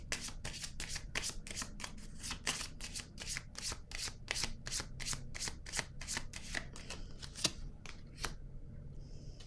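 Tarot cards shuffled close by in a quick, even run of crisp riffling flicks, about twenty sharp snaps in a row, ending with a few slower taps as the cards settle and are laid down.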